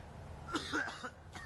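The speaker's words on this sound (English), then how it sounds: "I got some gnarly sounding coughs." A few faint coughs sound close by, short and throaty with a slight clearing quality, clustered within a second and a half of quiet room background.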